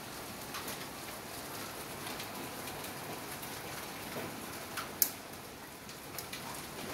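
Heavy rain pounds a driveway as a faint, steady hiss with scattered drip ticks and one sharp tap, with no voices.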